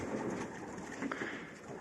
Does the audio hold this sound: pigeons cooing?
yes